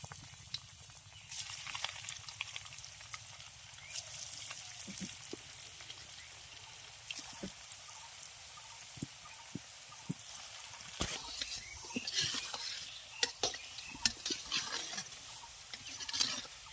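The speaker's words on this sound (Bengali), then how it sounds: "ভাজার জন্য কড়াইতে তেল গরম করে নিয়েছি এবার এগুলোকে দিয়ে দিচ্ছি" Bread balls drop into hot oil in a wok and fry with a steady crackling sizzle, broken by sharper pops and spits throughout, close and moderately loud, with no voices.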